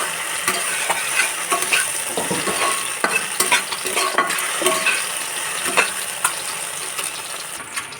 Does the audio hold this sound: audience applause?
no